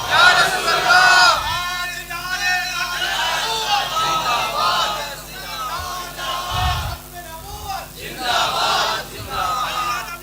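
A crowd at a religious address roars back a slogan together in loud, swelling bursts of massed voices, rising several times across the stretch, with a lone speaking voice leading between the responses.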